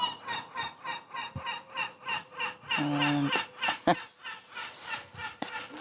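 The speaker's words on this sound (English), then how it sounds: "very noisy seagull. Two of them." A pair of noisy seagulls call from a lamppost on a Spanish street, giving loud, close, repeated harsh cries in a steady rhythm, with a brief word spoken once.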